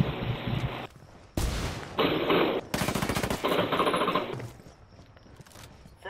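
Rapid bursts of heavy automatic fire from a tank's gun in a video game, several loud chattering volleys separated by brief pauses, tapering toward the end.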